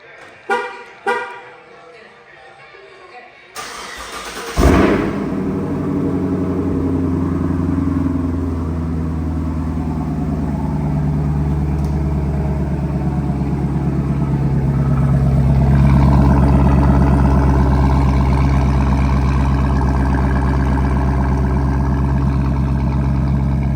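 A 6th-generation Camaro SS V8 fitted with an MBRP catback exhaust cranks and fires, then settles into a loud, deep, steady rumbling idle that swells slightly partway through.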